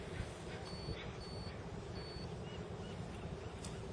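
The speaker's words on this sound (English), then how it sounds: "I want to make sure that the EPIRB does a proper self-test" An ACR EPIRB aboard a commercial fishing vessel gives a few short, high self-test beeps, spaced about half a second apart, faint over a steady broadband engine and water rumble.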